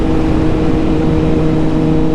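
A motorcycle engine drones steadily and loudly at speed on a twisty road, with a constant close hum and rushing wind, no talking.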